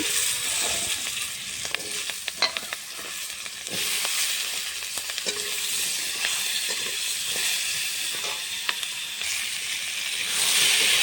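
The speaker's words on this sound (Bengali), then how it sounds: "ফোড়নটা হয়ে গেছে, কেটে ধুয়ে রাখা আলু দিয়ে দেব।" Cut, washed potatoes dropped into hot oil already tempered with bay leaf, dried red chillies and whole five-spice. A loud, continuous sizzling hiss carries on throughout with a few scattered crackles and no voices.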